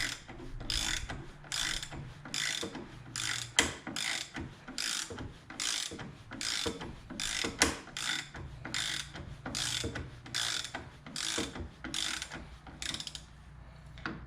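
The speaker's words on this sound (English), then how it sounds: "Now I could use a power ratchet, but I don't mind doing things by hand." Hand ratchet tightening the mirror bolts on a Jeep Wrangler TJ, a steady close run of quick clicking pawl strokes in repeated bursts, loud and alone without talk.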